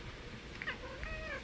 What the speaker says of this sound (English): It's Cotter the Talking Cat.